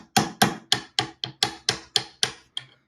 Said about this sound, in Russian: Буду равномерно его обстукивать со всех сторон